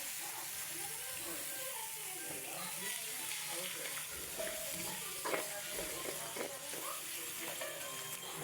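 Beaten eggs frying in a pan for fried rice, a steady bright hissing sizzle throughout with faint scrapes and clinks, close and quiet, with a voice talking faintly in the background.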